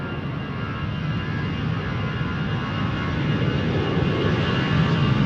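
A jet airliner climbs out steeply after takeoff, a loud broadband engine roar holding steady and slowly strengthening, with no voices.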